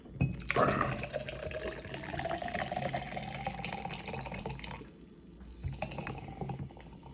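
Pepsi Nitro is poured hard into a Coors Light glass, a close rushing splash of liquid that starts abruptly, streams steadily for several seconds, then tapers into softer trickles and small clinks.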